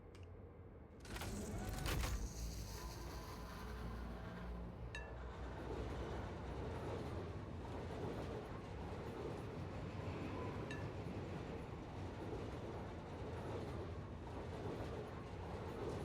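A train in the video game Satisfactory pulling into a siding, a sharp metallic clank near the start and then a continuous rumbling roll of wheels on track with occasional faint clinks.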